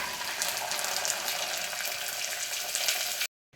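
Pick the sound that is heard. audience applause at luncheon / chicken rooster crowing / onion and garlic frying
onion and garlic frying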